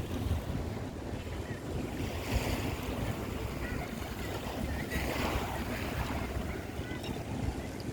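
Sea waves wash in at low tide on Dolomite Beach, a continuous, fairly faint surf roar mixed with gusty wind buffeting the microphone, with no talking.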